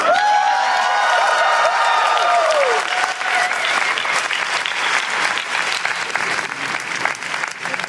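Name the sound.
audience applause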